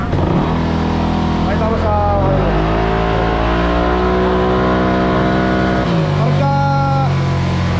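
Honda Click125 scooter, remapped, revving at full throttle on a dyno, its engine note rising and holding in a loud steady drone, briefly dropping, then climbing again while people talk over it.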